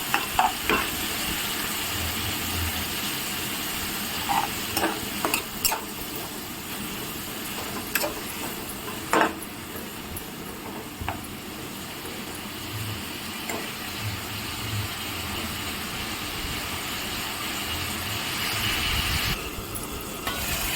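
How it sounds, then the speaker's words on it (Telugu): Mint chutney ingredients, tomato and onion among them, stirred in a hot pan, a continuous sizzle with repeated scraping and clinking of the spoon against the pan. "చూడండి, బాగా కలుపుకోవాలి ఇలాగా"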